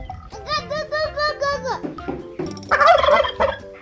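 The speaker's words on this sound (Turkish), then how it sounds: "Evet hindi bu." A turkey at a zoo gobbles in a rapid warbling burst, then calls again more loudly, close by, while people talk nearby.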